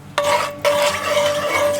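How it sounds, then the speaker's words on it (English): Oil is stirred around a very hot cast iron pot on an outdoor grill while making carne guisada, a steady scraping, sizzling swirl heard up close with two brief pauses and no talking. "And then kind of stir around a little bit."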